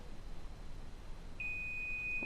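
A single steady high-pitched beep from an electronic stud finder on a wall starts partway through and holds to the end over a quiet room background.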